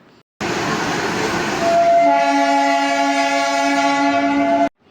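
A passenger train pulls into a busy station platform on a pilgrimage journey to Arunachalam, its rumbling approach giving way to a long, loud, sustained horn blast that holds steady until the sound cuts off.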